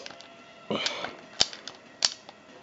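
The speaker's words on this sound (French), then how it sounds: "il faut appuyer comme une brute sur les boutons, c'est affreux" Sharp plastic clicks from buttons pressed hard on an unofficial Nintendo 64 controller, a few distinct close taps spaced apart over a quiet background.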